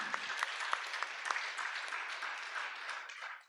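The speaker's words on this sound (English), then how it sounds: "A big round of applause for him." A yoga festival audience applauds a speaker, a dense steady clapping that starts strong with a few sharper individual claps and fades out at the end.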